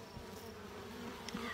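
Honey bees buzzing on a sparsely populated hive frame holding a small patch of brood, a low steady drone close by with a few brief louder passes near the end.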